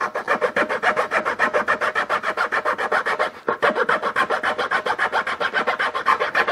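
A file rasping along the edge of wooden mandolin binding, with steady, rapid back-and-forth strokes that are close and continuous and pause only once, briefly.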